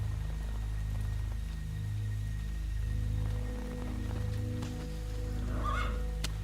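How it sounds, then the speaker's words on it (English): Steady rain falls in the Metal Gear Solid 3 game, a soft continuous patter under a low droning hum, with a faint brief chirp near the end and no talking. "And now it's raining."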